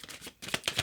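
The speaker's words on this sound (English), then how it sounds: "This is way too many cards. Let me keep shuffling." Tarot cards shuffle in quick riffling bursts, close and soft, with a brief pause midway before several more crisp flutters.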